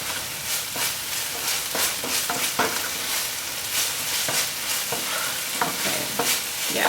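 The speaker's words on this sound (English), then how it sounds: "I'm gonna give this another stir." Peruvian green cilantro rice with chicken is stirred in a frying pan over medium-high heat, giving a steady close sizzle with repeated scraping strokes of the spoon.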